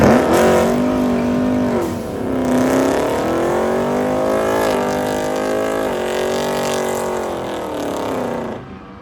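A Boss Mustang pulling out of the staging lane at a hot rod event revs loud and close, its engine pitch rising and falling through several throttle swells before fading slightly.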